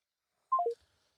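Three quick telephone keypad dialing tones in a descending step, clear and close, followed by silence.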